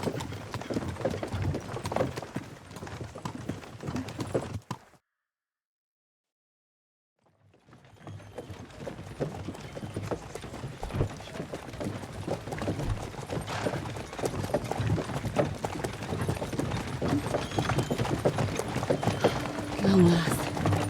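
Horse hooves clip-clop in Kingdom Come: Deliverance 2, a steady rhythmic trot heard up close with a voice talking over it, broken by a few seconds of silence before the hoofbeats resume.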